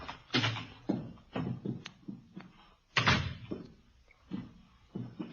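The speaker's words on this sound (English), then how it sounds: "Door's open." A door opens with a thud and clatter nearby in a radio drama, with a few scattered knocks and bumps around it in an otherwise quiet room.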